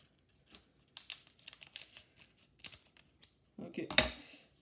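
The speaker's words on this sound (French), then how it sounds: "je vais prendre des ciseaux." Several short snips of scissors cutting open a hockey card pack, sparse and close, followed by a louder rustle of packaging.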